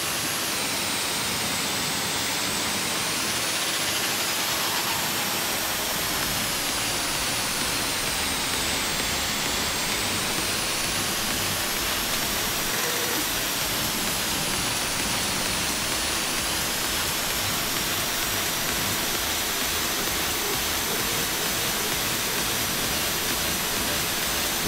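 Car engine in The Long Drive video game, an underpowered engine that cannot yet reach fifth gear, roaring as a steady loud broadband drone that swells and eases slowly, with no talking over it.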